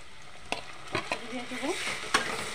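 Spice mix for mutton curry frying with browned onions in a pan, stirred with a spatula: several crisp scrapes and clinks over a low continuous sizzle, close up with no talking.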